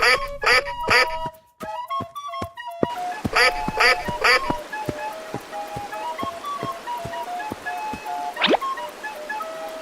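Duck calls ring out in repeated bursts, mixed with sharp clicks, brief chimes and a rising whistle in a game-style escape room challenge, with a faint voice in the background.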